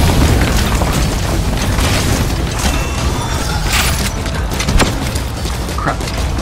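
Rocket launcher explosions in Metal Gear Solid 5 give loud, dense booming rumble throughout, with crackling debris bursts layered over a continuous low roar.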